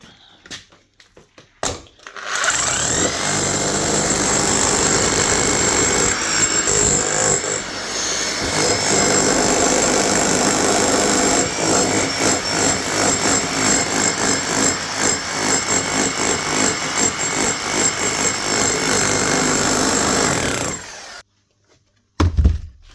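A Bosch GBH5/40 hammer drill runs hammering into a block, a loud continuous grinding rattle with rapid percussive pulses for about eighteen seconds, then it stops, followed by a couple of handling knocks.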